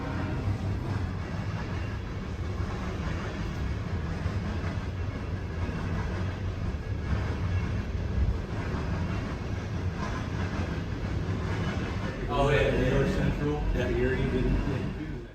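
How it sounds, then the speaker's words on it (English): A southbound CSX coal train rolls past an interlocking tower on the C&O line, a steady, heavy rumble of rail cars that continues throughout. A voice talks over it near the end. "a southbound CSX coal train running on the C&O"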